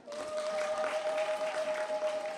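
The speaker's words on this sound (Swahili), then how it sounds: "Makofi mengi kwangu" An audience at a political gathering claps in a dense, steady patter, moderately distant, over a constant tonal hum.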